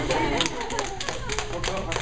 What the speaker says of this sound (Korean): 박수 쳐주래요.